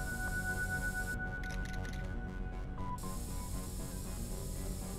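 A spray paint can hisses in The Warriors as a gang member tags a wall, several short bursts in quick succession over a steady game background hum.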